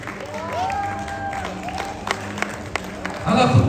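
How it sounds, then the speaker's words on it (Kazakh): A crowd bursts into applause at an outdoor Amal festival gathering for the winners, the clapping swelling loud near the end after talk and a long whistle-like tone. "неге бір шапалақтайда?"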